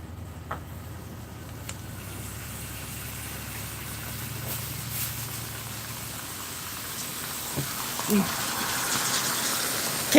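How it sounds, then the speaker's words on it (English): Steam escapes with a steady, close hiss from a hole in a kosher XMRE flameless ration heater warming smoked beef with rice, a soft bubbling rush that builds slightly toward the end. "Can you see the steam coming out of that hole? You should also be able to hear it."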